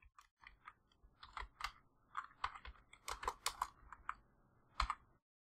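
Java code being typed on a computer keyboard, quiet close rapid key clicks in uneven bursts, no voice.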